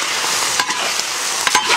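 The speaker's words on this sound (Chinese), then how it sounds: "充分的煸炒，把牛杂煸香" Beef offal, including heart, stir-fried in a hot wok with rapeseed oil, garlic, cinnamon and star anise: a steady close sizzle with a few quick scraping stirs and no voices.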